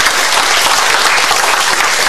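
Loud, dense clapping from guests at a dinner show in Masan, a close and sustained burst of applause with no voices heard.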